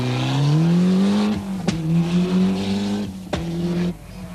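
A rally car at the 1991 Donegal International Ramelton street stage slides sideways, its engine howling loudly and shifting pitch, with sharp clunks and a brief tire scrub as it passes close by.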